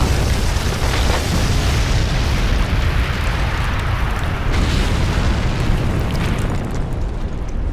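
A massive anime explosion tears apart the Alamo, a loud, sustained roaring blast with heavy low rumble and crackling debris that holds for several seconds before thinning at the end.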